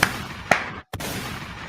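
Sharp gunshot sound effects crack out in quick succession, two loud bursts separated by a brief moment of dead silence, alone with no talk.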